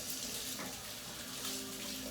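Water runs steadily from a kitchen tap for hand washing, a continuous broadband rush that stays even and close throughout with no talking.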